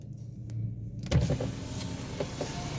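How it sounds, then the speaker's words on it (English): A BMW E90 316i engine starts after the ignition is cycled: a quiet interior hum, then a sudden cranking burst that settles into a steady broad idle rumble. "So now I will go to cycle the ignition, insert the key, start the car"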